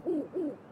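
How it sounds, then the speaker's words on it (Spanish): Owl in the Zelda Link's Awakening remake video game giving two soft, close hoots in quick succession, alone without talk. "Ahora vendrá el búho, ¿no?"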